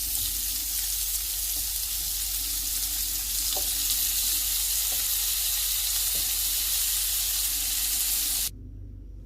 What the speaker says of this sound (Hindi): इसमें हम ये सब्ज़ मिर्चें और ये रेड मिर्च में फ्राई होने के लिए रख लेंगे